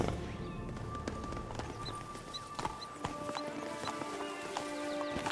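Horse hooves clip-clopping at a quick pace in The Witcher 3, with rhythmic thuds over a game soundtrack and a brief whinny.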